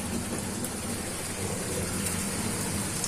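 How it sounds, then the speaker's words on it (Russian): Steady rain falling outdoors near a shed, a dense, even hiss of drops with a low rumble beneath, continuous and fairly close, with no talk. "Кузьма, ты на дождик смотришь?"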